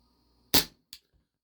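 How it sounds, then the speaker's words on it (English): A WE Tech Bulldog 6mm gas blowback airsoft pistol fires two sharp, snappy shots, the first loud and close and the second slightly softer about a third of a second later, with quiet around them. "Again, another 12 shots."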